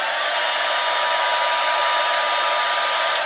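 Set to high speed, a hair dryer blasts a loud, unbroken rush of air with a broad hiss that holds steady throughout, heard up close and alone.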